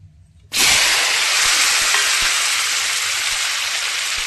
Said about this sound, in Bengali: এখন এই যে তেল গরম হয়ে গেছে, টমেটোগুলো এবার তেলের মধ্যে আমি দিয়ে দেবো।